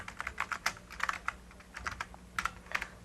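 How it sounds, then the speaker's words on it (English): Fingers tap out a name on a 1980s computer keyboard, bursts of close, crisp keystrokes in irregular runs with brief pauses between them and no talking. "So I type in the name I want to save it under."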